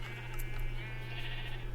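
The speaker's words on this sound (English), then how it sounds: "Many sheep." Sheep in a video game bleat faintly a few times over a low steady hum, quiet and in the background.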